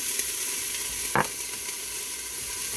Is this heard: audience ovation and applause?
no